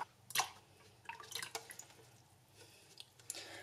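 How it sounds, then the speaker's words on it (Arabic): Milk is poured into a saucepan, making faint splashes and scattered drips in short bursts, with quiet gaps between them. "غادي ندير الحليب ديالي كامل وغادي نضيف له الكريمه"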